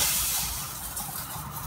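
A soft, steady hiss of hot oil sizzling in a pan, close by and fairly quiet, with no talking.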